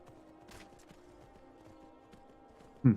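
Horse hooves in Skyrim with a survival modpack, a faint steady clopping under a low ambient bed, ending in a sudden louder burst.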